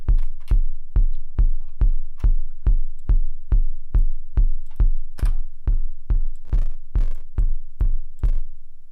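A distorted synth sound in a music composition, playing as a steady, evenly paced series of about twenty punchy low thumps with sharp attacks, loud and alone.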